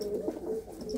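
A pair of pigeons in a loft, a dabbi-marked hen and a khattian-marked cock, coo softly in low, throaty, rolling murmurs that pulse steadily close by, with no talking.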